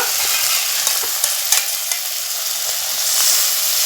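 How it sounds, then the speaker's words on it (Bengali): Spice masala frying in a pan for a rui fish curry, a bright constant sizzle with quick spatula scrapes and taps stirring through it, close and loud with no talking. "একটু নাড়াচাড়া করে মশলাটা ভালো করে কষিয়ে নেব"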